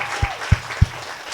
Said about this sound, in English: Round of applause for Abby